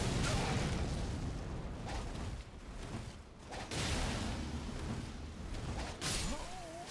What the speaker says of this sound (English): I actually managed to use the explosion though